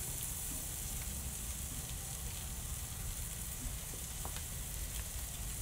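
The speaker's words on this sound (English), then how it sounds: "Let that bacon get going." Bacon frying on a grill cooker outdoors gives a steady, fairly faint sizzle and crackle with a few small pops, a continuous background hiss with no voices.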